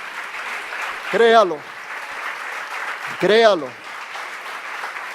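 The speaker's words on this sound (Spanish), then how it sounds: "¿qué tal si le das un aplauso al Señor y dices: yo lo creo?" A church congregation applauds in a continuous, fairly loud wash of clapping that runs under a voice as he speaks twice over it.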